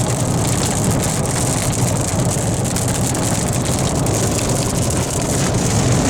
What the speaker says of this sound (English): Alright, now we're starting to get rain.